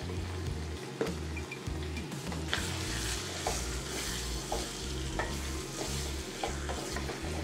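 Mutton liver for a pepper fry sautéing in a pan, a continuous close sizzle and frying crackle with occasional stirring clicks of a spoon against the pan, no talking.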